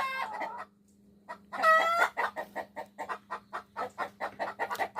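Hens cackling after laying eggs in a rural henhouse: one bird breaks into a loud, rising squawk, followed by a steady run of rhythmic, close clucks over a faint constant hum.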